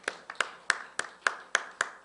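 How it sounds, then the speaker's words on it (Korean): A church congregation gives sparse applause for the worship team: roughly eight distinct claps at a steady, slow rhythm, spaced about a third of a second apart, clear and isolated against a quiet room. "우리 오늘 찬양팀들 일찍 나와서 수고했는데 우리 영광의 박수 합시다"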